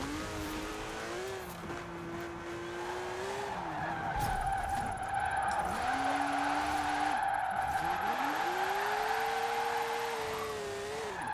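A Porsche 914 in Forza Horizon 4 revs and shifts through a couple of corners, its engine tone rising and falling as the tires squeal steadily through each bend, loud and close.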